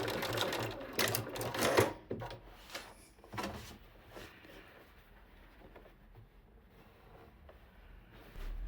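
Brief, quiet bursts of a domestic sewing machine stitching back and forth at the end of a shirt collar, a few short whirring runs followed by near silence.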